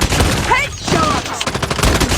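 Pistol gunshots ring out in a shooting video game as a quick cluster of sharp, loud cracks within about two seconds, mixed with other game sounds.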